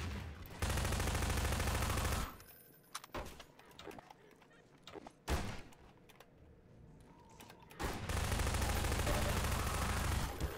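Enemy soldiers fire shotguns in the Half-Life 2 video game, loud blasts and bursts arriving in clusters and separated by quieter gaps with smaller clatter.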